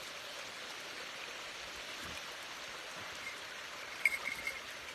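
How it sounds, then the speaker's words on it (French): A small forest stream flows in a quiet woodland, a faint, even wash of water burbling at a distance, with a few soft clinks near the end. "la forêt, le petit ruisseau"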